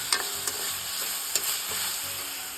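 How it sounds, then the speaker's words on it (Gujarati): Vegetables are stirred in hot oil in a pan, with a soft continuous sizzle broken by a few brief scraping clinks of the spoon; fairly quiet and close, with no talking. "થોડોક તેલમાં ફેરવી નાખીએ હવે તેલમાં ફેરવી નાખીએ"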